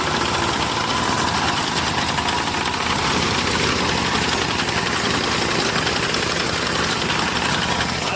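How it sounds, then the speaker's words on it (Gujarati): A machine engine runs in a sorghum field to cut the crop, keeping up a loud, even, rattling mechanical drone with a knocking vibration for the full eight seconds and no voices. "જો આ મશીન ચાલુ થઈ ગયું છે હવે"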